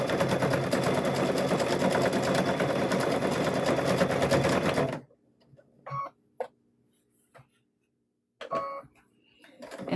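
A sewing machine stitches right along the curved edge of a fabric microwave bowl koozie with a loud, rapid, steady whir for about five seconds, then stops, leaving scattered faint clicks and handling sounds.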